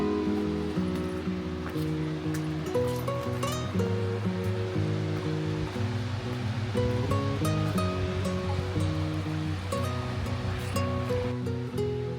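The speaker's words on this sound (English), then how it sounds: "I can hear a waterfall." Steady broadband rushing of water from a waterfall in a gorge at Karijini, continuous and moderately loud, layered under constant tonal music.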